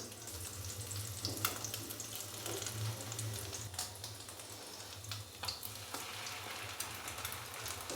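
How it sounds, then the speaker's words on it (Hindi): A samosa sandwich fries in a pan over a medium-low flame, giving a steady, quiet hiss and sizzle with soft crackles, close and continuous without speech. "एक साइड को हमने मीडियम से लो फ्लेम पे 2 से 3 मिनट के लिए अच्छे से फ्राई कर लेना है"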